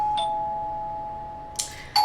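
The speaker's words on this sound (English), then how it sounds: "Please stop ringing the doorbell." A video game doorbell chimes in a clean electronic ding-dong, one early ring followed by two more rapid rings near the end over a steady faint hum.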